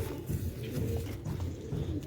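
A pigeon coos softly and low, close by but faint, in a series of throaty murmurs over a quiet background.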